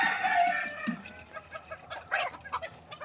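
Several chickens cluck and squawk close by in a farmyard, with irregular overlapping calls rising and falling over about three seconds.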